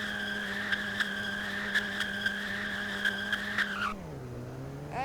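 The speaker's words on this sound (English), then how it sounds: "this thing can do front wheel drive burnouts" A Hyundai Elantra N in the Roblox game Greenville Wisconsin does a front-wheel-drive burnout: a steady engine drone with a sustained tire squeal for several seconds, then a falling revs and a brief new squeal at the end.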